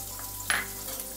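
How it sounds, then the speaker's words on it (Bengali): Chopped onion dropped into hot oil left over from frying jackfruit kofta, giving a soft continuous sizzle with one brief sharp hiss partway through. "ওই তেলে পেঁয়াজ কুচি দিয়ে দেবো"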